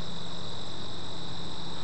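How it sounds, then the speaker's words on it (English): Crickets and other insects chirp in a dense, continuous outdoor chorus with a steady high-pitched trill, loud and unbroken, with no voices. "Just wanted you to hear the cacophony of crickets and all sorts of insects that are happening right now."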